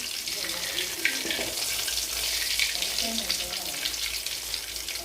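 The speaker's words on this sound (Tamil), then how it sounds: "கடைசியாக ஒரு மீன் தலையோடு இருந்துச்சு. அதை அப்படியே வறுத்துக்கிட்டு இருக்கேன்." A fish head fries in a pan, giving a steady close hiss and crackle of hot oil, with faint speech under it.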